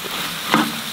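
Spicy octopus in sauce stir-fried in a pan, giving a soft steady sizzle with a brief louder burst of frying noise midway, close and alone.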